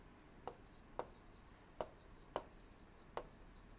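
A pen on paper during an engineering lecture on IC engine fuels gives faint, soft scratching strokes with five sharper taps at irregular intervals, all very quiet.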